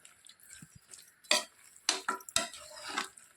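Scraping, clattering strokes of a spoon mixing country chicken with yogurt and masala in a metal pot for biryani, a few sharp bursts with quieter rustling between.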